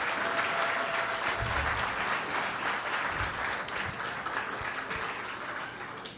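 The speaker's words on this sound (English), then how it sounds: "give a thunderous round of applause to this man" An audience at a fundraising gala gives a steady round of applause, full and continuous throughout, heard from some distance with a faint low rumble underneath.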